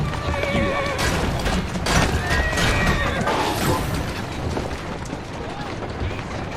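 A horse whinnies in the Victorian London setting of Assassin's Creed Syndicate, its neigh rising out of dense, loud game noise with rumbling movement underneath and a voice nearby.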